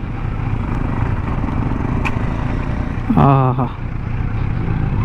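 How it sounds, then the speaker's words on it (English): Kawasaki Z900 inline-four naked motorcycle being ridden, a steady engine drone with road and wind rumble throughout, and a brief rising-and-falling pitch sweep near the end as the revs climb and drop. "it's a different feeling riding an inline 4 naked bike"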